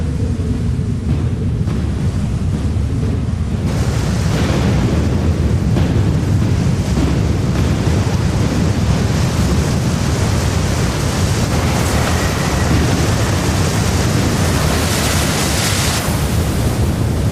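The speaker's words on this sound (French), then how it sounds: "Ce méga tsunami s'est enfoncé profondément au cœur des terres." A mega tsunami surges deep inland as a loud, continuous roaring rush of water. The churning wall of sound swells and grows denser after the first few seconds, with no voices over it.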